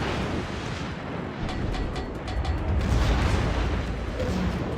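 A shell hits the USS Massachusetts, a Tier 8 battleship, in World of Warships, fired by an enemy ship with 16-inch guns: a heavy, rumbling explosion over dense booming that swells louder toward the end.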